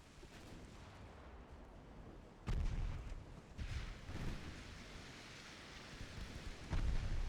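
Deep booming naval gunfire from warship turrets in a 1917 battle in Ultimate Admiral Dreadnoughts, heavy muffled blasts at intervals over a steady rumbling background, fairly quiet overall.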